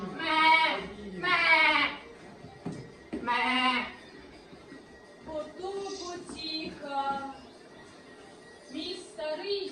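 An actor in a stage performance of the Ukrainian folk tale "Koza-Dereza" imitates a goat, giving several loud, quavering bleats in a row, alternating with spoken lines between them.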